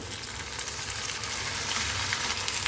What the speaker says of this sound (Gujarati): તો હવે તેમાં ટામેટા એડ કરી દઈશું.